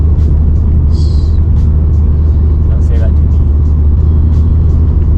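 A tuned car engine, around 550 wheel horsepower with a blown-off intercooler pipe, roars loudly and steadily from inside the cabin during a dyno-style pull, a deep constant drone under a man's brief spoken remark.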